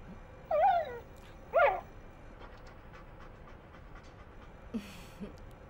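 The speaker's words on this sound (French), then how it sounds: "appelée Aine, qui est un chien très intelligent" A highly intelligent dog from the animated series Cowboy Bebop pants and whimpers in two short, close bursts, followed by faint breathy sounds over a steady low background hum.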